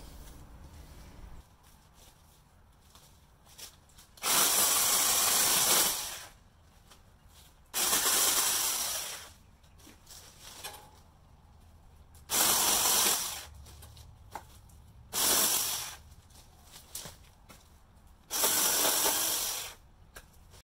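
A Hyper Tough 20-volt cordless electric chainsaw runs in five loud bursts of a few seconds each, separated by quiet pauses, with a steady whirring motor and chain rattle on the ground.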